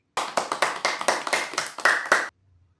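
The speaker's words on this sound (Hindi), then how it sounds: "उसका नाम सुनकर आपने ताली बजानी है।" A group of children in an Urdu class clap their hands together about nine times in a fast, steady rhythm, close and crisp, then stop abruptly into near silence.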